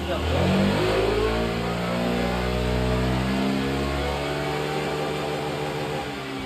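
A Zontes scooter with a Stage 1 chip tune accelerates hard from 50 km/h, the engine note climbing steadily in pitch, loud and close, with faint speech mixed in.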